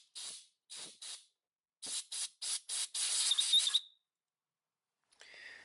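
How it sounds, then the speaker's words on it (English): Compressed air blasts into a threaded hole on a Toyota Corolla 2.0 D4D during tie rod replacement: short sharp hissing bursts, then a rapid series and one longer blast, followed by a faint trailing hiss. "Blast some compressed air into that hole to remove any debris that may have accumulated"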